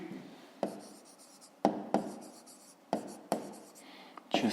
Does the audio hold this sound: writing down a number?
yes